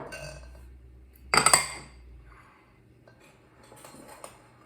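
A small ladle clanks once against the bowl of gluten-free waffle batter in a sharp, close metallic clatter, followed by faint scraping and a few light taps in a quiet kitchen.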